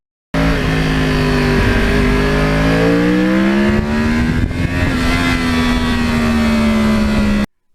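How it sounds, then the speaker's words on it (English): A 2009 Yamaha R1 with a crossplane four-cylinder engine revs loudly and steadily up close, its pitch climbing and then holding, with no talk over it. "the feel of the Crossplane engine"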